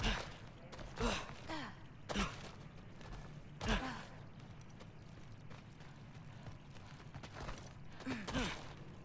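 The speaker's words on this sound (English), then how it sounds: "Something breathing near the back of the cellar." A creature breathes near the back of a cellar in God of War: slow, heavy, rasping breaths at irregular intervals, faint and low, with no talk over them.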